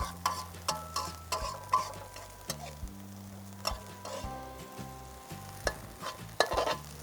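Catfish fried rice with garlic and vegetables tossed and stir-fried in a pan, a steady run of scraping stirs and soft rhythmic knocks over a low sizzle, close and moderately loud with no talking.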